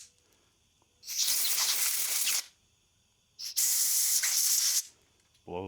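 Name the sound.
air compressor blowing out Coleman 200 lantern parts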